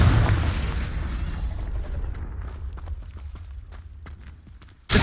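A Confringo spell explodes in the Hogwarts Legacy video game: a loud booming blast that fades into crackling debris and scattered pops, ending on a sharp new hit.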